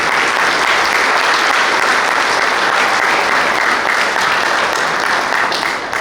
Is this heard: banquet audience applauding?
yes